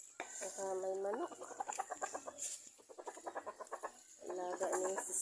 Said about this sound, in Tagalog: Saka may manok.